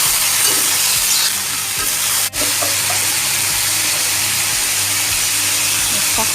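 Bean sprouts, tomato and spring onion sizzle loudly in a frying pan, a dense, close, continuous hiss with soft scraping from stirring and one brief sharp tap partway through.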